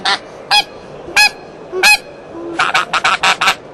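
A hunting call imitating an adult greylag goose gives several separate honks, then a fast run of short honking notes, loud and close with nothing else underneath.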